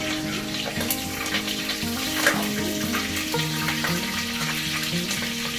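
Cinnamon, cloves and bay leaf spluttering in hot oil in a pan for Andhra-style green chilli mutton, a steady crackling sizzle with scattered pops, close and continuous without talk.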